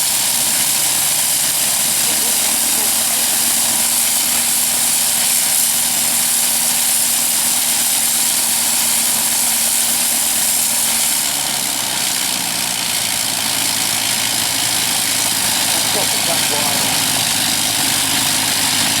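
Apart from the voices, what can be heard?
Sopwith Pup aircraft engine idling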